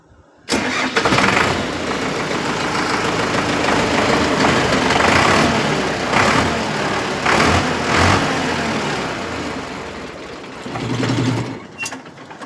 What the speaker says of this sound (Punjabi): ਤੁਹਾਨੂੰ ਟਰੈਕਟਰ ਦੀ ਆਵਾਜ਼ ਵੀ ਦਿਖਾ ਦਿੰਨੇ ਆ ਚਲਾ ਕੇ ਆਪਾਂ ਸੁਣਾ ਦਿੰਨੇ ਆ ਜੀ